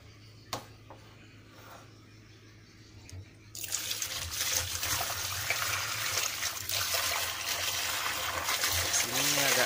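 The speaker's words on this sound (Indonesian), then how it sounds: "Kemudian kita tambahkan air." Water pouring steadily into a container of skim milk for mixing a broiler chicken ND vaccine, starting abruptly after a quiet stretch and continuing as a close, full gushing rush with a voice speaking.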